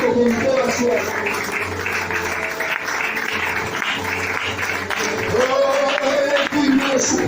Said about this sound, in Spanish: Si puede dar ese aplauso al Rey Bendito con toda su alma